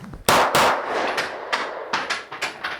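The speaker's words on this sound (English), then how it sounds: "I'm going to do 2 shots of mag change and then 2 more shots, and we'll see how it does." SAR USA B6C pistol fired at close range: sharp, loud gunshots with ringing metallic clangs, several reports and clanks spaced across a few seconds, consistent with shots around a magazine change, with no talking.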